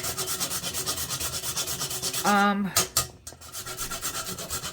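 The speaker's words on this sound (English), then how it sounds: "I have 1 nutmeg, and I am going to grate" A whole nutmeg is rubbed against a grater in rapid rhythmic rasping strokes, close and loud, broken briefly in the middle by a tonal buzz and a pause before the scraping resumes.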